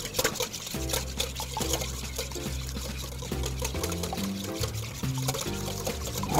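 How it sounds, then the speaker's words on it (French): Cream and eggs are whisked together in a bowl, producing a fast, steady rhythmic clatter and sloshing that runs the whole time, close and fairly loud, with no talking over it. "On fouette ça comme il faut pour que vraiment le mélange soit homogène, crème et œuf."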